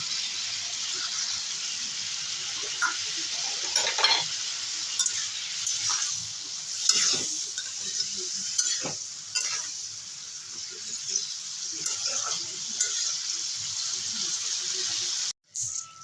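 Drumstick stems are tossed into small fish frying in a pan, producing a continuous sizzle broken by repeated stirring clinks and scrapes. The sound cuts out abruptly near the end.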